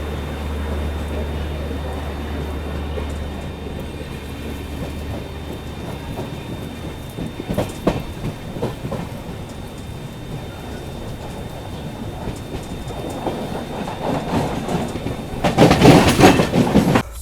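Steady rumble of a passenger train running on rails, heard from inside the coach on a rainy coastal route between Kanyakumari and Bangalore, with faint rail clatter and a louder rushing swell near the end.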